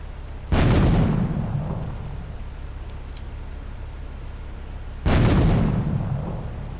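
Two grenade blasts in Grand Theft Auto 3 go off several seconds apart, each a sudden loud boom that slowly rumbles away over steady background noise.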